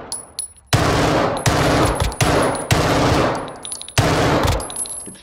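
Automatic weapon fire in Call of Duty: Modern Warfare II, loud close bursts of rapid shots in several strings separated by brief pauses, no talking.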